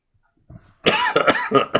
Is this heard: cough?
yes